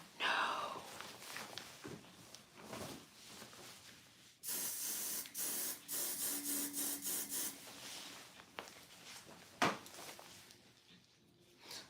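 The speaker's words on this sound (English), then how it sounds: "I sprayed these pants down like I was spraying a cockroach." An aerosol spray can blasting a pair of white pants, several short hissing bursts in quick succession, fairly close, with rustling and handling of fabric before and after.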